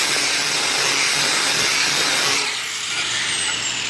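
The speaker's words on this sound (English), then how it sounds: "Next up will be the flap disc." A flap disc grinds across metal with a loud, steady broadband roar, easing slightly partway through as the disc's pressure or contact changes.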